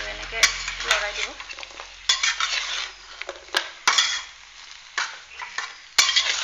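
Taro leaves frying in a pan while being stirred: a spatula scrapes and clacks against the metal in irregular strokes, with sharp knocks over a bright sizzle that rises and fades between stirs.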